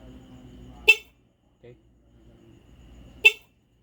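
Two short, sharp beeps from the stock horn of a Yamaha Sniper 150 motorcycle, a couple of seconds apart, over faint background murmur and a brief voice.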